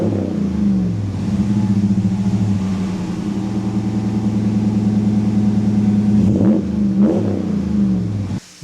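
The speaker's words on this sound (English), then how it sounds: "It mixes that sound from each bank to get that V8 sound of the Ram that you want." Deep rumbling idle and rev of a RAM 1500 V8 through a performance catback exhaust, a steady close burble swelling into two short throttle blips near the end.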